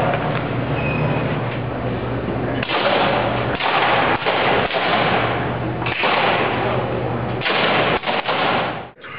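Air rifle shots in a shooting competition at a national championship at Fort Benning, Georgia, a loud, dense, continuous clatter of sharp reports and thuds filling the range with no clear gaps.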